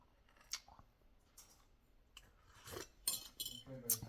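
Clinks and scrapes of cutlery against dishes during a home mukbang meal, coming in sparse, close bursts with quiet gaps between them.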